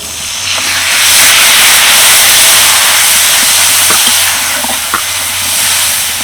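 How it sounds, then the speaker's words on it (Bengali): A splash of water hits a hot pan of oil with fenugreek and white cumin while making chana dal kofta curry, producing a loud, steady steam hiss and sizzle that lasts throughout, with a few faint clicks and no talking. "এবার আমি অল্প একটু জল দিয়ে দেবো"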